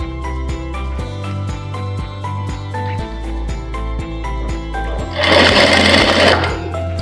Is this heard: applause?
no